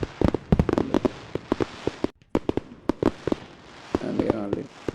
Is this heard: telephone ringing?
no